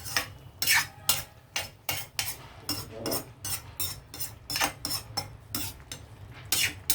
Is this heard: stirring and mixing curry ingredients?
yes